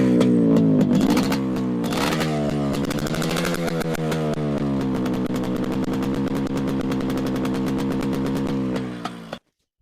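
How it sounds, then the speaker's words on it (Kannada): A Yamaha RX-135 two-stroke motorcycle fitted with a Catlock silencer runs close by, its engine crackling in a raspy, rapid putter with a few sharp revs early on, then holding a steady fast idle before cutting off abruptly. "RX-135 ನೋಡಿ, ಸೌಂಡ್ ತೋರಿಸ್ತೀನಿ ಬನ್ನಿ ಗೈಸ್."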